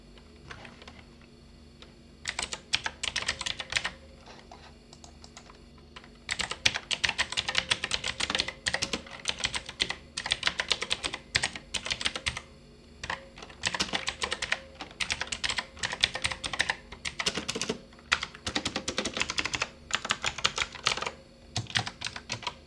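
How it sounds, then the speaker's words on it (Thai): An HP GK400F mechanical keyboard with blue switches clacks under fast, close typing in dense runs of sharp clicks, broken by short pauses, with no voices. "อย่างแรกไปฟังเสียงคีย์บอร์ดกันเลยครับ"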